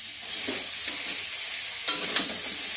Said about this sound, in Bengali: আলু পটল সয়াবিনের রেসিপি ক্যাঙ্গেন ওয়াটার জলের রান্না হচ্ছে